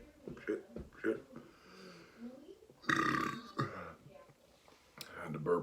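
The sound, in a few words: burp after drinking malt liquor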